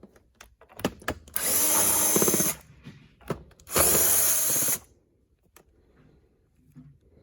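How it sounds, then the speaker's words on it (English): A power drill or driver whirs in two sustained bursts as screws come out of a Windsor Sensor XP12 upright vacuum, with short clicks and handling knocks between and after the runs. "So we're just going to pull these screws out."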